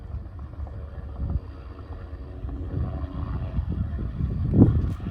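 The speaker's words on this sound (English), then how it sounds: "Wind's blowing very hard." Strong wind buffeting the microphone in heavy low gusts, swelling louder toward the end.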